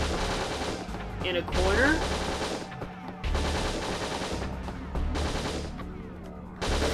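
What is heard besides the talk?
shotgun gunfire in the Winback video game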